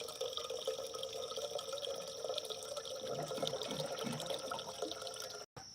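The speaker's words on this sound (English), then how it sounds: "All right, so I am filling the kettle." Tap water runs into a kettle in a steady, close hiss and splash that holds for several seconds on a rainy morning, then cuts off briefly near the end.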